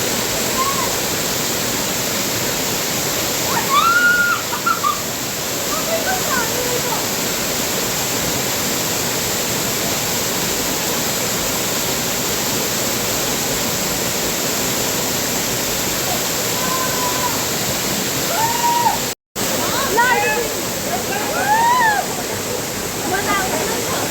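Shiva Jatta Dharan waterfall near Vedetar, Nepal, rushes in a steady, dense roar that fills the whole stretch, with faint voices now and then beneath it.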